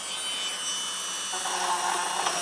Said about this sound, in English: I'm going to use this little wire brush Dremel thingy to see if I can't clean this up a little bit